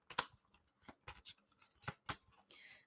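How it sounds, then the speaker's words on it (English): Playing cards being shuffled during a tabletop game, a run of quiet, crisp riffling snaps and flicks in irregular bursts, with a softer brushing slide at the end. "I'm going to shuffle, shuffle, shuffle."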